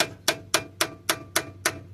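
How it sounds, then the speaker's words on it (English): Seven evenly spaced, sharp hammer taps ring out close and loud, each one knocking a stubborn part into place, with short quiet gaps between strikes. "Hammer and tap it in a little bit."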